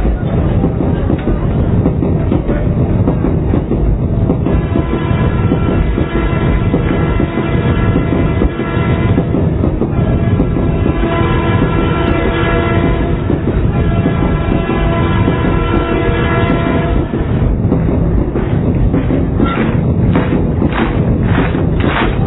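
A train runs inside a pandal at a large religious gathering, with a loud continuous rumble and repeated horn blasts sounding over it, while crowd noise and voices carry underneath throughout.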